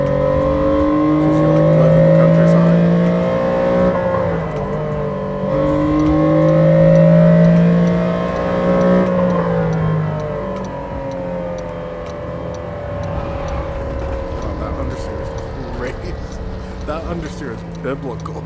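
Honda NSX engine in the racing game Assetto Corsa revs through rising and falling pitch sweeps, loud and close, with repeated climbs through the gears before settling into a rougher drone; someone talks over it.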